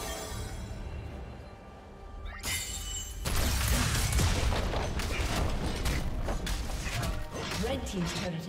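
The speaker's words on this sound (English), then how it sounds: "Red team's turret has been destroyed." A turret crumbling in League of Legends during a Garen versus Sett top-lane match, a loud sustained crash and rumble with scattered impacts running several seconds after a brief quieter stretch.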